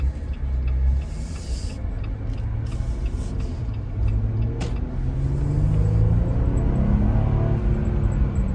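A Jeep Wrangler Rubicon JL engine is heard from inside the cabin as it accelerates, a steady low rumble rising in pitch through gear changes with road noise underneath.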